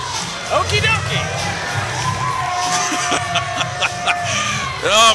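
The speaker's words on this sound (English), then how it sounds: "the crowd coming in and celebrating with this young man here" Kids and a crowd at a wrestling event cheer, shout and whoop in celebration around a young winner, a loud, dense wall of excited voices with shrill cries rising near the end.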